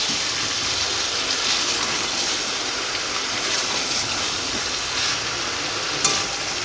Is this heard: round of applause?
no